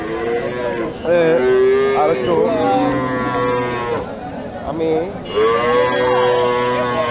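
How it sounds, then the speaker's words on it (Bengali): Cows and calves low loudly and repeatedly at a busy cattle market in Bogura, their long, drawn-out moos coming in several waves, close and overlapping, while people talk nearby. "এই গাভীটা দেখেন, বাচ্চাটা ষাঁড় বাচ্চা।"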